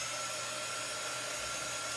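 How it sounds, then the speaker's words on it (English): A hair dryer drying chalk paste on a soda-fountain craft piece, a steady, quiet whooshing hiss of airflow running continuously. "A cold hair dryer works really good."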